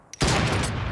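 A loud burst of rapid sniper rifle fire in a video game, the shots crowding together into one dense volley that starts abruptly and carries on without a break.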